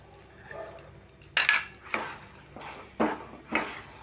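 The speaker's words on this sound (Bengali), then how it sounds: "এবার সমস্ত কিছু উপকরণগুলো ভালো করে আবারও নেড়ে মিশিয়ে নিতে হবে" Semolina laddu mixture with nuts and raisins stirred by hand in a pan, giving a series of four or five distinct scraping strokes of a spoon against the metal at a steady rhythm, close and moderately loud with no speech.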